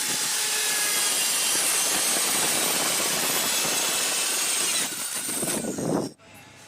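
A power cutting machine is switched on to slice through a beam on a construction job, giving a loud, steady roaring whine that holds for about six seconds before cutting off abruptly.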